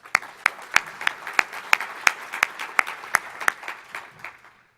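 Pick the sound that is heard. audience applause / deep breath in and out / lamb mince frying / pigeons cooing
audience applause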